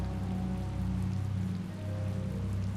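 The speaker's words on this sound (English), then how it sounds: "It's raining after all." Rain falls steadily in the Tales of Vesperia video game, a soft even hiss over a constant low hum with no voices.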